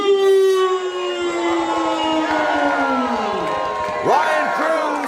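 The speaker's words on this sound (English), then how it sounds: "Ryan Cruz, cheered on by the crowd here in Bloomington." A wrestling crowd in Bloomington, Minnesota cheers and whoops for wrestler Ryan Cruz, a loud sustained roar under a falling siren-like tone, with an announcer's voice running over it.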